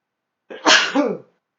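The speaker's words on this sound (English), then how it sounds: "I'm going to sneeze" A single sharp sneeze, close and clear, with a quick intake before it and silence around it.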